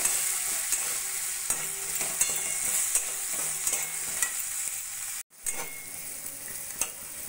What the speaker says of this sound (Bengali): নুন হলুদ দিয়ে সবজিগুলোকে ভাজা ভাজা করে নেবো যতক্ষণ না সিদ্ধ হয়ে যায়